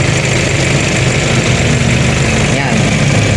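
A car engine idles at low RPM in a steady, loud, continuous drone with a constant low rumble and no change in pitch, while a voice talks faintly underneath.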